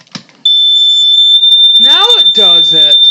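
A smoke alarm being tested lets out one long, loud, piercing high-pitched tone that goes on without a break, while a person speaks over it near the end.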